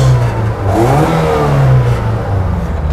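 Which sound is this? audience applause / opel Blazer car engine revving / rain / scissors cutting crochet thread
opel Blazer car engine revving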